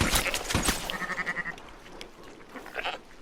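A sheep bleats in the open-world video game Red Dead Online: one quavering, pulsing bleat mid-clip over a busy, noisy game soundscape with sharp transient clatter, and no talk.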